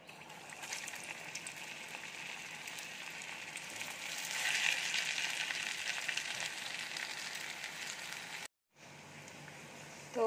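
Soybean chunks fry in hot oil with a continuous crackling sizzle that swells a little midway, then cuts out for a moment before resuming. No voices are heard.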